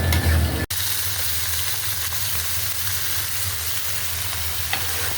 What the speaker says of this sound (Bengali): মশলার ভিতরে আলুগুলা দিছিলাম ভাজতে